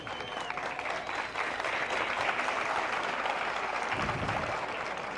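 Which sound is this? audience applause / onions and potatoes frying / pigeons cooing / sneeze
audience applause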